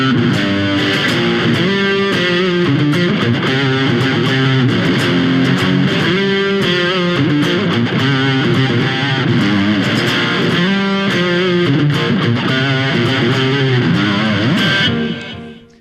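Heavy distorted electric guitar riff, the third riff of a rock song, played through effects with a dense, steady, loud chugging pattern that repeats throughout and cuts off at the end; no talking.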